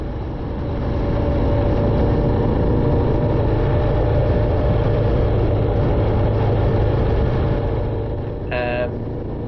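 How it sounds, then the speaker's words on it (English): A Royal Enfield Classic 350 motorcycle engine runs with a steady, dense rumble close by, holding even for several seconds before a short tonal blip near the end. "changing the noise of the bike to make it sound like an older bike"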